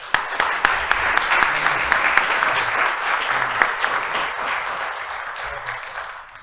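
A conference audience at a legal lecture on compliance in criminal law claps strongly and steadily, a dense, loud applause that holds for several seconds and then tapers off gradually.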